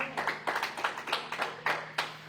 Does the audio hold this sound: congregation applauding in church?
yes